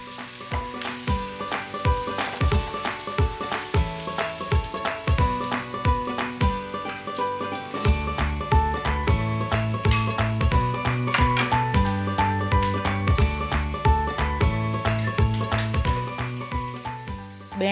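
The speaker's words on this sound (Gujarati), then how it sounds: "આને આપણે થોડીક 2 મિનિટ જેટલી સાતળવી પડશે ધીમા તાપે." Food sautéing slowly in a pan over low heat for a tricolour pasta sauce, a steady close sizzle and crackle with frequent light scrapes and stirring clicks, continuous throughout with no talk.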